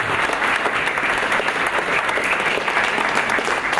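An audience at a museum of coins and medals in Częstochowa applauds for an elderly man named Janusz, born in 1920, with steady, dense clapping filling the room throughout, no voices over it.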